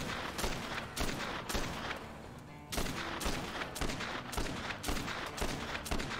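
Gunfire against zombies in Dead Rising 2, bursts of loud repeated shots in a steady rhythm with a short lull midway, close and dominant.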